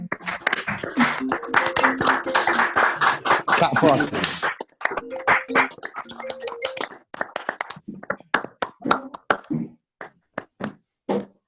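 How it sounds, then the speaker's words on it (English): A round of applause on an online video call, with many separate participants clapping at once, dense at first, then thinning into scattered, sharp individual claps that fade out toward the end, with voices mixed in. "let's give a big round of applause to them"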